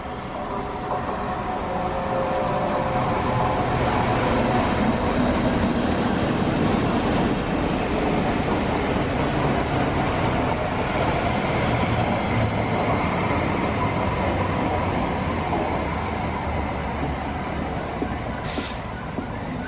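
At Derby station, a train rumbles past with a continuous broad roar and rattle of wheels on rails that holds steady for about twenty seconds, close and fairly loud, with no talking.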